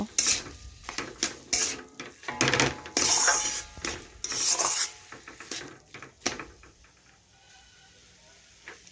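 A spatula mashes and stirs potol (pointed gourd) filling in a pan, giving repeated close scraping and rubbing strokes in bursts that thin out toward the end, with no talking.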